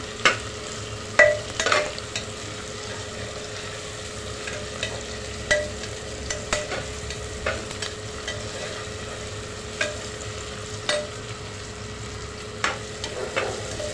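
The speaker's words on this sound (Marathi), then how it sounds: "टमाटा मऊ होईपर्यंत आपण परतून घेणार आहोत" Tomatoes sautéing in a pan for a Khandeshi masala khichdi and kadhi meal, with a steady low sizzle and scattered spoon scrapes. Stirring knocks come at irregular intervals, and no one speaks.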